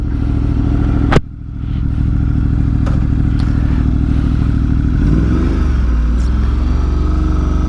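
A motorcycle engine fires up with a sharp start, then settles into a steady, loud running idle with some clatter and a brief rise in revs, close by with no talk.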